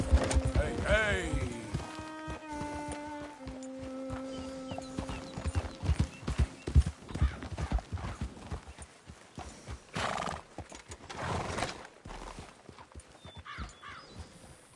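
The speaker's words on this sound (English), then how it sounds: "I don't see horses this fat too often" Horse hooves clip-clop steadily while the horse whinnies in Red Dead Redemption 2, with in-game music and a voice talking over the hoofbeats throughout.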